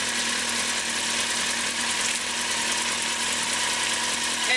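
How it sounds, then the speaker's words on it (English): Kawasaki Z1000 motorcycle engine idling steadily up close during a charging-system stator test, an even mechanical hum and rattle with no talk over it. "Go ahead and fire your bike up."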